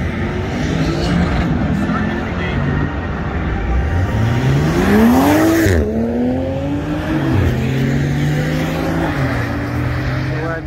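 LMP1 prototype race cars at Road Atlanta during an IMSA event, one loud engine rising and falling as a car sweeps past mid-clip, with steady engine roar throughout.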